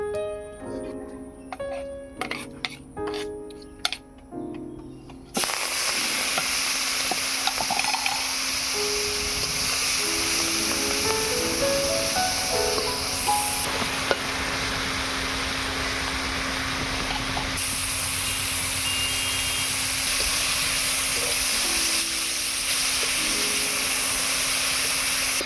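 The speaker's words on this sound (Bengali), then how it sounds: "এবারে চিংড়ি মাছগুলো ভেজে নেব" Prawns rubbed with salt and turmeric fry in mustard oil in a wok, a steady, dense sizzle that starts abruptly after a few seconds of music and holds evenly to the end.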